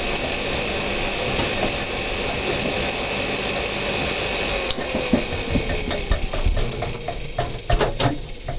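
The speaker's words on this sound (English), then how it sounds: "This extractor is a tangential one, like that, as against a radial one" A tangential honey extractor spinning four uncapped honey frames, a steady whirring mechanical drone throughout with a few clicks and knocks toward the end, no voices.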